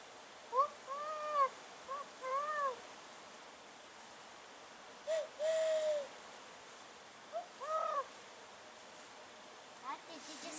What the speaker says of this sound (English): Did you hear it? What was it? Owl.